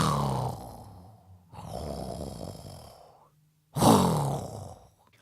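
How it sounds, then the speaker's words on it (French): Deep, rasping snores from a sleeping Santa Claus repeat in slow, drawn-out breaths with pauses between them, close and moderately loud. "ronflant comme un bienheureux"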